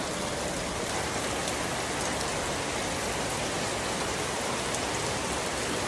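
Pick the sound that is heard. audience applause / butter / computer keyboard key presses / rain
rain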